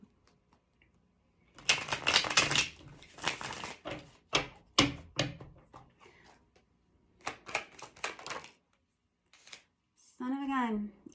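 Tarot cards shuffle in quick bursts of crisp riffling and slapping, loud and close, with pauses between rounds and a short voice near the end.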